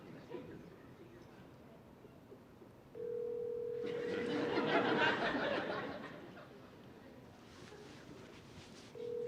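Phone call on a panel stage that goes unanswered, a steady tone held for a few seconds, then a burst of crowd laughter and murmuring from a convention audience, with the tone returning briefly at the end.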